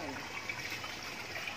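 Running tap water splashing steadily while groceries are washed, a continuous close hiss and trickle filling the whole moment without pause.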